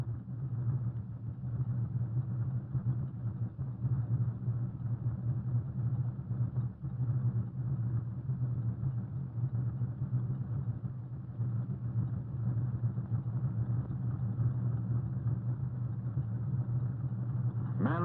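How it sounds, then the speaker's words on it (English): A fleet of concrete mixer trucks rolls along the forms on a river construction job, a steady low engine rumble and drone holding evenly throughout, with no speech. "Here is an open-air assembly line, a fleet of mixer trucks which moves down the forms"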